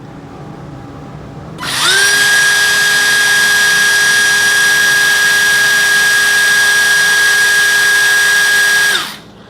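A Dongcheng cordless brushless impact driver spins up and runs at high speed with no load for about seven seconds, giving a loud, steady, high-pitched whine close by, then winds down.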